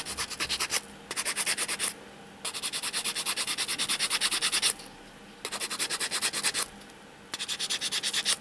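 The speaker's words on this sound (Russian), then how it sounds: "вот таким образом шкурочкой, либо наждачной бумагой" Sandpaper is rubbed back and forth over a crochet hook handle made from a toothbrush, giving quick, rhythmic scratchy strokes in several bursts with short pauses between them, close and clear.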